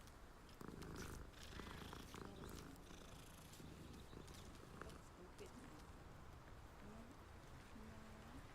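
A cat purrs steadily in the video game Hogwarts Legacy, a continuous soft rumble running the whole time under busy game ambience and background sounds.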